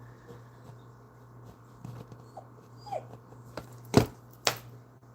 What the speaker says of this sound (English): he is still sitting there whining behind me